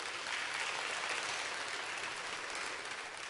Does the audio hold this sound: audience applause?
yes